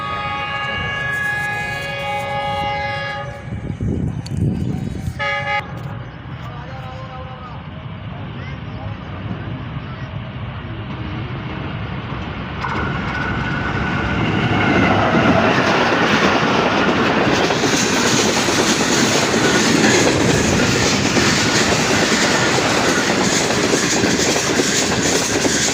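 Millat Express passing through the Punjab countryside: a tonal horn blast, then the train rumbling by with clattering wheels growing louder and denser. The rolling noise dominates the second half.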